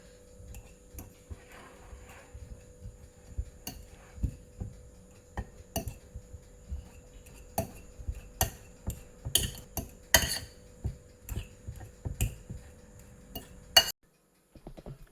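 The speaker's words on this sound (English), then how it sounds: "I'm just going to use a fork to mash the potatoes." A fork mashing baked potatoes with butter in a bowl: a steady run of irregular clinks and taps, close and fairly crisp, with no talking.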